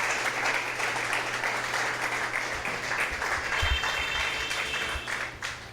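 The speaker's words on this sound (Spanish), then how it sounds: "Le damos un aplauso al Señor, hermanos." Church congregation applauding, a steady dense wash of clapping from many hands sustained throughout, fairly loud and close, with faint low hum beneath.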